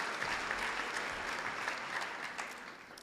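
Audience at a 2023 high school graduation ceremony in Granby, Massachusetts breaks into steady, dense applause that fills the hall, holding at an even level throughout with no voices on top.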